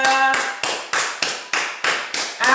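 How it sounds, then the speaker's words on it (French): Church congregation clapping together in applause for the Lord, eight loud, even claps in a steady rhythm, with a short held musical tone at the start and end. "applaudissez pour le Seigneur"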